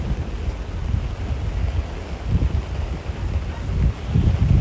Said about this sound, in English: Ooh, the thunder is here.